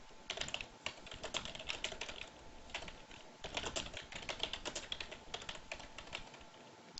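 Rapid clicking of keys on a computer keyboard, close and fairly quiet, in uneven bursts with brief pauses between them.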